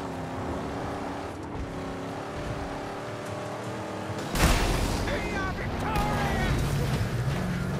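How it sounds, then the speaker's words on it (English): A sudden loud, broadband boom bursts in midway through steady engine-like noise from the PS4 game Mad Max, followed by a lingering rumble and scattered effects. "I love the explosions and stuff like that."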